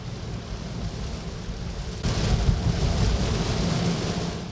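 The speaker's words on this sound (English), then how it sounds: "the rain is just pelting down" Heavy rain pelts down on a Tesla Model 3 driving an interstate freeway in Texas, a steady dense roar with low rumble that swells louder about halfway through, alone without talk.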